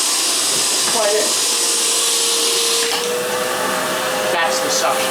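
Suction roar from a Milwaukee M18 cordless backpack vacuum, a steady loud whoosh of air held close and continuous, with a faint whistling tone as air is drawn past fingers near the nozzle.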